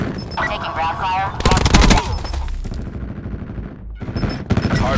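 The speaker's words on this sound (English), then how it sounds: "Taking ground fire." Automatic gunfire from the video game Black Ops 4 rattles out in loud, rapid bursts, mixed with game voice callouts and other combat effects, the firing breaking off briefly and then returning.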